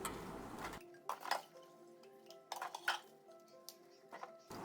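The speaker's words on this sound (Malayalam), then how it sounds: "അപ്പോൾ ഞാൻ അതിൻ്റെ സൈഡിൽ തന്നെ പാത്രം കൂടി കഴുകി വെക്കാമെന്ന് വിചാരിച്ച്" Dishes being washed in a kitchen sink, with scattered clinks and knocks of pots, plates and cutlery at close range, along with some water sounds and no talking.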